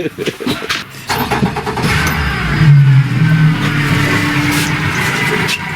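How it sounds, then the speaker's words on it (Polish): An outboard boat engine on Jeziorak lake fires up on the first try, then settles into a steady, smooth idle hum close by, with people talking over it. "Ale odpalił za pierwszym, nie? Nie, nie, bardzo ładny chodzi silnik."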